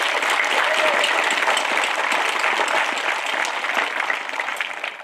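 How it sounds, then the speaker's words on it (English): Applause from the crowd at a high school graduation ceremony, a sustained patter of many hands that fades slightly toward the end. "So we'd like to give these guys a round of applause to congratulate them for this achievement."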